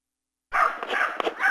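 Pitbull dogs bark in a park during training sessions, a burst of several barks starting abruptly after a short silence, fairly loud and close.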